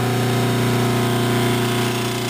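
A 5 HP single-phase Dayton farm-duty electric motor with new capacitors and new bearings runs up to speed, giving a steady, loud hum with strong tonal bands that holds throughout without any voice.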